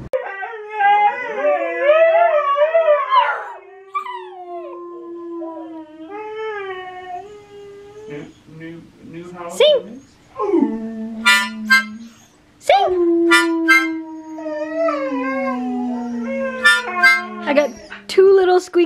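A husky howls in long wavering rising and falling cries, then gives high squeaky yips and whines, close and fairly loud on an icy, windy outdoor day, with a second howling stretch later.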